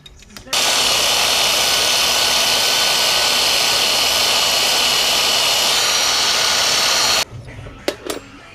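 A power tool runs loud and continuous for about seven seconds while cutting off a metal piece during fabrication of a 1/14 scale lowboy trailer, then stops abruptly, followed by a few light clinks.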